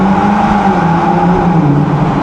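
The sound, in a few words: sports car engine revving in tunnel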